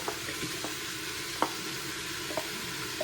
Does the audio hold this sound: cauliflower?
yes